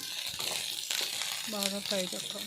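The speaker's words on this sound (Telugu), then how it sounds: "మిర్చి, ఆనియన్, టమాటో 3 వేసుకొని కొంచెం ఆయిల్ వేసుకొని బాగా ఫ్రై చేసుకోవాలి" Chillies, onion and tomato frying in a little oil, a soft continuous sizzle with some stirring scrapes, while a voice speaks over it.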